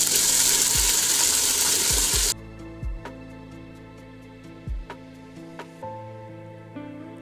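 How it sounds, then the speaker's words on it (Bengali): Chopped onions and ginger-garlic paste fry in oil in a pot, a loud hissing sizzle for about two seconds that then drops away, leaving quieter scattered clinks and knocks of stirring against the pot. "দিয়ে 1 চা চামচ আদা রসুন পেস্ট দিয়ে কিছুক্ষণ ভাজা ভাজা করে নেব।"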